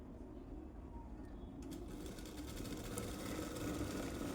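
A sewing machine stitches a blouse with a faint, continuous mechanical whir that runs steadily throughout and grows slightly louder toward the end.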